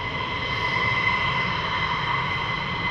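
A fighter jet roars on the runway at RAF Lakenheath as it takes off, a loud, steady, broad engine rush with a high whine that holds without pause from start to end.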